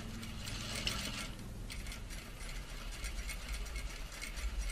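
A sewing machine back stitching at the start of a flat felled seam runs in a steady mechanical whir with faint ratcheting clicks, close and fairly quiet, with no voices.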